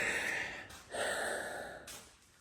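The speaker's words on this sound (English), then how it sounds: "I've been practicing my heavy breathing in the background" Two or three loud, close breaths, a heavy exhale followed by another rushed breath, with brief pauses between them and no talking.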